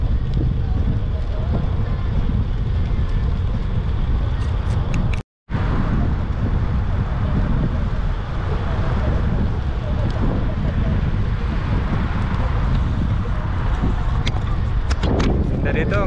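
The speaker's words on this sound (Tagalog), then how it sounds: "Yan, humangin na." Strong wind roars into a GoPro camera during an outdoor ride in Korea, a loud and constant rushing buffet that drops out briefly before returning, with a voice talking now and then under the noise.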